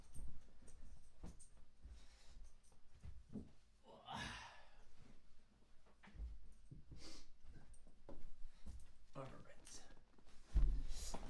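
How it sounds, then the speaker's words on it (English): A puppy whimpers and snorts in soft, broken bursts, close by and fairly quiet, with a person's voice murmuring around it. "My puppy wants to say hi so that we can go."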